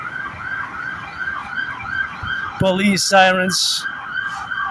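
A siren wails in the background, joined midway by sharp, loud electronic yelps and blasts from an emergency vehicle up close.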